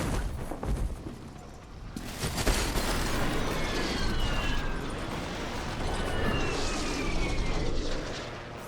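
A hostile airstrike in the Warzone video game, a roaring aircraft engine sweeping overhead with a broad rumble of explosions building and holding, loud and dense with no clear gaps.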